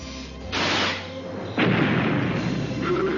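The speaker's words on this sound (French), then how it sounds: "Ces canons laser peuvent détruire n'importe quel objectif." Two sharp blasts of sci-fi laser cannon fire, each a bright burst followed by a sustained roaring rumble, loud and close.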